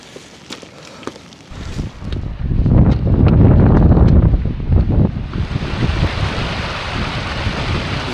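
Strong wind gusts roar and buffet the microphone in heavy, fluctuating bursts, loud and close, with a constant rushing noise underneath, on a hillside climb to Green Crag amid passing squalls.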